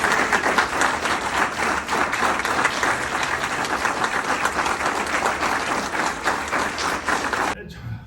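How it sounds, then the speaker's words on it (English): An audience at an event applauds Steve with sustained, dense clapping that stays loud and even for several seconds and then cuts off sharply near the end. "let's have a round of applause for"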